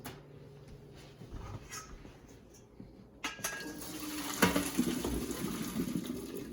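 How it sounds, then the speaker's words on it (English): Hot pasta water poured from a pot into a strainer while making Kraft Dinner, quiet kitchen clinks at first, then a rushing splash of water with metallic clatter, close by. "When the timer is finished, it's time to strain the pasta."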